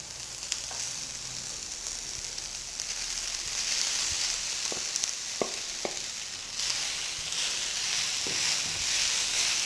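Flattened rice frying with softened onions in a pan over low heat, a steady bright sizzle running throughout with occasional scraping clicks of a spoon stirring through it.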